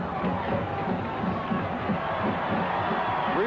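A large football stadium crowd at a 1995 Colorado vs Missouri game keeps up a steady roar and murmur, with a broadcast voice talking over it.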